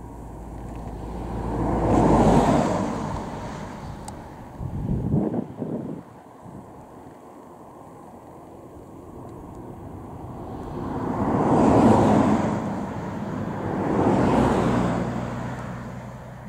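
A Tiger Moth biplane flies over Duxford airfield, its engine drone rising and fading in slow swells as it passes, mixed with heavy wind rumble on the microphone and a brief thumping handling noise, with no talking.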